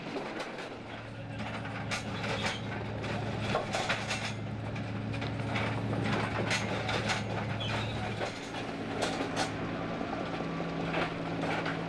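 Heavy DB track renewal train machinery hums with a steady low drone while clanking and knocking repeat across the work site, close and continuous, with a voice talking over part of it.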